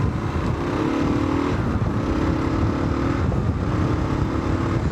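A Kawasaki KLR 650 with 40,000 km on it revs steadily at around 4,500 rpm on a test ride, a loud, close single-cylinder drone that holds constant with a slight rise and fall in pitch.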